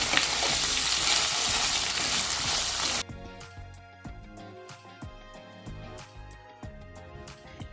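Potatoes with onions for home fries fry in a pan with a loud, steady sizzle, then a wooden spoon tosses them, giving a run of sharp scrapes and clacks over a quieter hiss.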